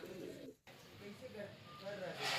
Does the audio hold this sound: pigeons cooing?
yes